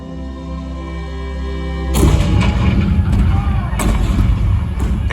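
Cannon fire at Fort Sumter in April 1861 breaks in after a steady low hum, a loud, dense barrage of booms and blasts rolling on continuously with sharp individual shots standing out.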